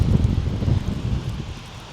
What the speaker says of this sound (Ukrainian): шалений вітер віє в харю